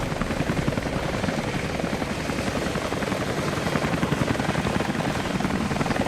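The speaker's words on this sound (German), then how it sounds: "Heli, dort hinten, schau." A helicopter's steady, loud rotor thrum and engine roar in Rise of the Tomb Raider continue without a break, sounding fairly close and unchanging throughout.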